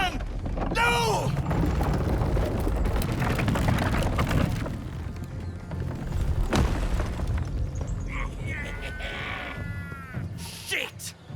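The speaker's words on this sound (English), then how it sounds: "Cannon! No!" Cannon fire booms during a chaotic battle in Baldur's Gate 3, a heavy explosion with rumbling impacts amid shouting voices, crackling debris and loud continuous battle noise.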